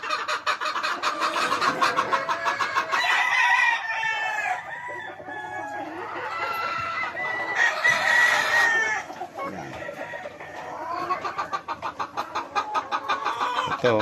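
Gamefowl on a farm, including White Kelsos and Gilmores, cluck and crow close by. Several roosters give overlapping crows over a busy chorus of clucking hens throughout.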